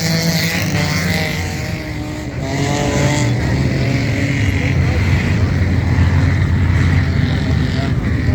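Loud, close engine roar of front-wheel-drive open-class race cars at a winter race, a sustained rough drone with rising and falling pitch as the cars get underway.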